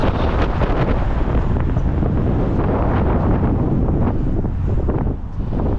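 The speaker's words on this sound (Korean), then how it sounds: "바람 장난 아니고" Strong headwind roars across a microphone on a bicycle tour over the Golden Gate Bridge in San Francisco, a loud, steady buffeting rush that fills the whole stretch with no speech.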